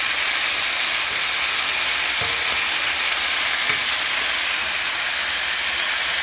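Cabbage stir-frying in a pan gives a loud, continuous close sizzle with a couple of faint stirring knocks, and no voices.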